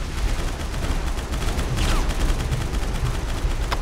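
Dense, rapid gunfire rattles without pause in the online dinosaur shooter Primal Carnage: Extinction, loud and close with overlapping bursts and no voices.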